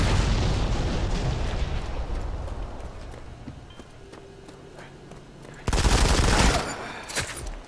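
Gunfire in the mobile shooter Modern Combat 5 during a free-for-all match, bursts of rapid loud shots at the start and again near the end, with quieter game noise between.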